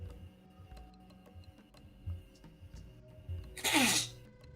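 A single sharp, short sniff comes near the end, loud and close, after a quiet stretch with faint ticking in the background.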